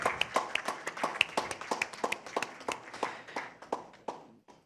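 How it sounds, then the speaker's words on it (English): A small group claps at a seed-sector signing ceremony during a Bangladesh investment summit, with sharp, fairly close individual claps in a loose, uneven rhythm that thins out and stops after about four seconds. "One more round of applause, please."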